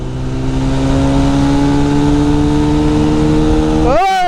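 A race car engine in the GTA video game revs loud and close in a steady, high-pitched drone that climbs gradually, then sweeps sharply upward and cuts off at the end.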